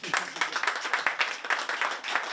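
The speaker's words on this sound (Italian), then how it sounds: "Grazie, un applauso." Audience applause at an art event in a Venetian palazzo, a steady spatter of hand claps with irregular sharp peaks, moderately loud and continuous.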